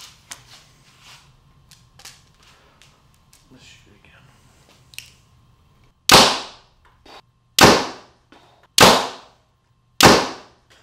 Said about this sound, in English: I'm gonna shoot it a couple more times